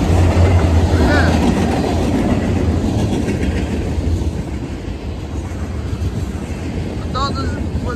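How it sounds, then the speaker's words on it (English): A manifest freight train carrying auto racks rolls past in Chillicothe, Illinois, a loud, continuous rumble with rhythmic wheel clatter, with wind buffeting the microphone. "This is actually a manifest train that had a bunch of auto racks on it."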